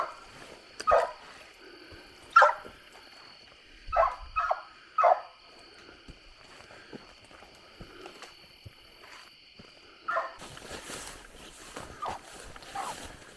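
A coonhound bays and barks in scattered bursts from a moderate distance during a coon hunt, treed in a big downed tree, with quiet outdoor woods background between calls.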